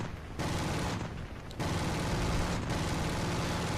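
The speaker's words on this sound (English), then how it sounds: "Letting that cannon loose, trying to get something." An aircraft cannon in the War Thunder video game fires in long, dense bursts over engine drone, loud and close, with brief pauses between volleys.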